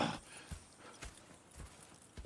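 Horse hooves clip-clopping in the video game Red Dead Redemption II, a soft, fairly distant series of evenly spaced hoof falls at a walking pace with no talk over them.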